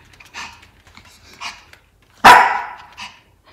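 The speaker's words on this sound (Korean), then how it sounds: "오, 아빠한테 다른 강아지가 있으니까 짖어?" A pet dog gives a single loud, sharp bark close by, following a few fainter yips and whines, with a home setting around it.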